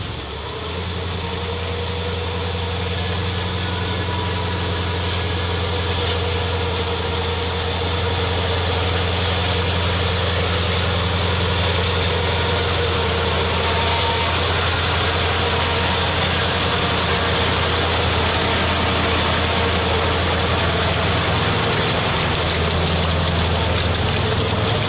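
A Monster Max truck drives off-road through a bog, its heavy engine holding a steady, loud, low drone that rises slightly and stays continuous throughout.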